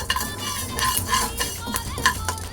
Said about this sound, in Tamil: இப்போ வெந்தயம் வறுத்து எடுத்துக்கலாம்.